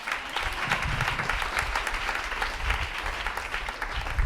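A church congregation applauds the Lord with sustained, dense clapping that carries on steadily at a moderate distance, without pause and with no talk over it.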